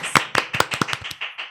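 A handful of people clap in a podcast studio, giving a short burst of sharp, separate claps that thin out and fade within a second or two.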